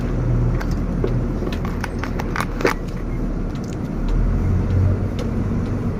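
A car climbing a hill in first gear gives a steady, close engine drone with low rumble throughout, a few sharp knocks and rattles on top, and no clear talk.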